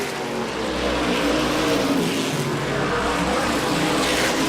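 Modified race cars from a modified racing tour run flat out around the track, a loud, steady wall of engine roar with overlapping motors and no voices.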